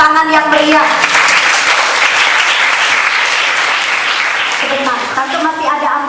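Children at a church kids' revival service applaud loudly and continuously, a dense wash of clapping that fills the room, with a voice briefly heard at the start and again near the end.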